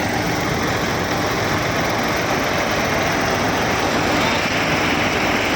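A tractor-powered groundnut threshing machine runs close by with a loud, steady engine drone and mechanical whirr that holds constant throughout.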